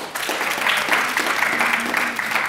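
Audience applause at a broadcasting careers event, a dense and steady wash of clapping from a sizeable crowd that continues without a break, fairly loud and close.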